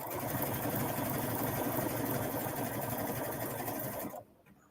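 Sewing machine stitching swimsuit fabric, a loud, fast continuous whir running close and steady for about four seconds before stopping abruptly, with no talking.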